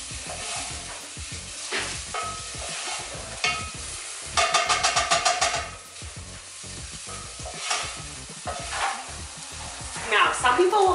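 Ginger frying for a tadka, catching and sticking on the pan bottom, with a loud close sizzle under repeated scraping strokes of a spatula. A quick run of rhythmic taps on the pan comes midway.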